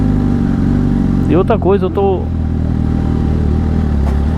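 A Yamaha R1 motorcycle engine idles with a steady low rumble throughout, and someone speaks briefly over it.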